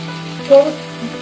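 Gourd leaves fry in hot oil with tempering spices, giving a steady close sizzle with a short louder crackle burst midway, no voices.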